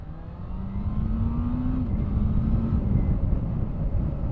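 A restricted 650 motorcycle leans through corners, its engine a steady mid-level drone with a slowly rising then settling pitch, heavy wind rush, and no voices.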